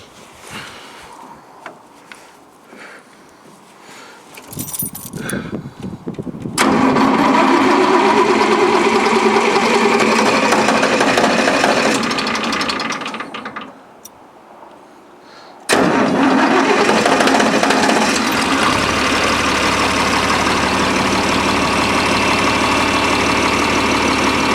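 Cold start of a John Deere 4020 tractor in near-freezing weather: the starter cranks, the engine catches with a loud roar, dies back briefly, then restarts and settles into a steady, close, heavy diesel idle.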